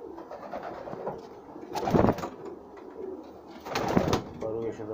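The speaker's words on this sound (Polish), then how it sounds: "zostało mi 24 młode gołąbki" Young pigeons coo in a loft during the moulting season, two swelling coo phrases rising out of a softer continuous background of bird murmurs and low rustling, fairly close.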